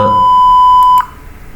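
An electronic buzzer in a distance sensor circuit sounds one loud, steady, pure beep that cuts off abruptly after about a second, leaving quiet background.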